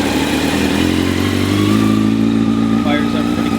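A Honda CBR600 motorcycle with a Yoshimura exhaust runs close by at a steady idle with a low, throbbing rumble, a slight rise in revs partway through, and no talking.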